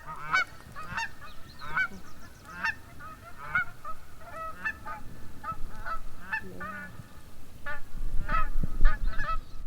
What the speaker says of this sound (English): The Dusky geese, their primary nesting habitat is here on the Copper River Delta